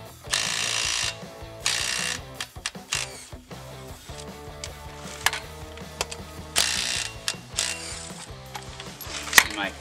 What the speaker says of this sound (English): See, my impact wrench takes them right off.